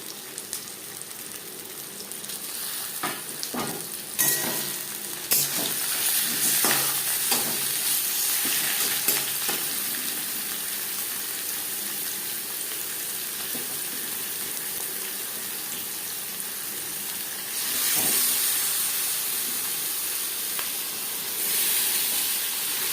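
Marinated chicken fries with softened onions in a pan for a potato chicken curry, a continuous close sizzle and hiss broken by repeated scraping stirs, with bursts of steam near the middle and end.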